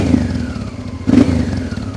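A Paris-Dakar motorcycle engine runs close and loud with a rough, uneven throb, a sharper burst of popping breaking through midway as it decelerates irregularly.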